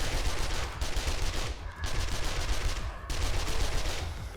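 An SMG fires in continuous bursts during Horde Night in the 7 Days to Die Rebirth mod, dense rapid-fire crackle filling the clip with two brief lulls, loud and close with no speech.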